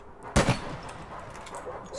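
A single sharp gunshot fires in the online shooter APB Reloaded, one loud crack followed by a brief echoing tail over faint game ambience.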